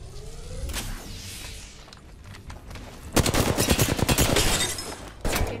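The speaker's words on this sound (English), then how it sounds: "Getting shot." Gunfire in Apex Legends, starting with scattered shots and moving into a loud, rapid automatic burst of closely spaced rounds before a last short volley.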